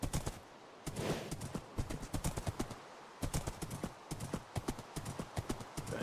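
Horse hooves in a survival video game clip-clop steadily and rhythmically in the foreground, with scattered sharper game noises mixed in.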